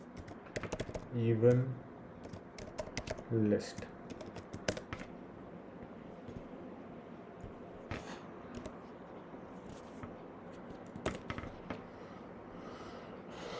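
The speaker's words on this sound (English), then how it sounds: "when I'm typing this" Computer keyboard typing sounds as scattered key clicks and short bursts of keystrokes close by, with someone briefly talking near the start and long quiet gaps between taps.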